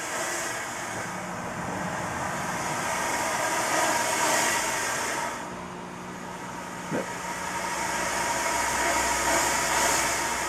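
A Halloween fog machine in a tote and ice chest chiller setup runs at its limit while heating and pumping, giving a steady broadband rushing hiss with a low hum, alone and fairly close, dipping briefly near the middle.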